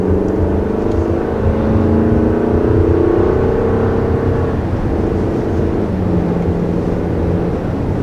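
A 2020 Honda CR-V compact SUV accelerating up a hill, heard from inside as a steady, loud engine drone with rising tones that hold for several seconds and then ease slightly, with no talking.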